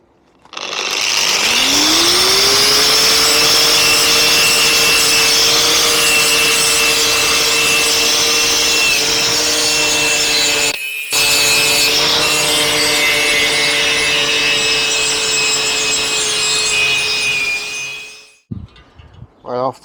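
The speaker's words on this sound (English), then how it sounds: "grinder with the spinning wire attachment, and I'm just going to gently go over this" An angle grinder fitted with a spinning wire brush scrubs rust off metal on a Suzuki FZ50 moped, a loud continuous whirring rasp that spins up, runs steadily with one brief cut-out, then winds down.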